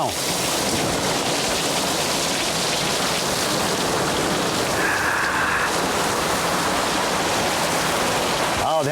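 Heavy rain pours in a loud, dense and unbroken hiss, a steady downpour from start to finish with a faint tonal note partway through.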